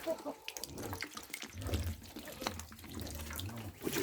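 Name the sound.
water poured into quail food dish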